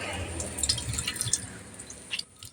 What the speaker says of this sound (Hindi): इस तरह से हम चिपट चिपट करके जितना भी पानी है वो सारे पानी को निकालते हैं